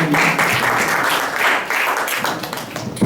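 Applause from an audience at a high school Indonesian language practical exam, a loud dense burst of clapping that carries on for about three seconds.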